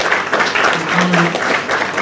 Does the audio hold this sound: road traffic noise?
no